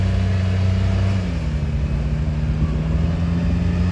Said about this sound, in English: having to really bring the RPMs up to go anywhere